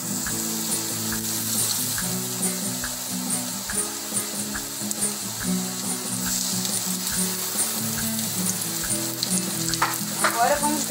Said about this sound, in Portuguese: Agora vamos deixar ele fritar bem a parte de baixo.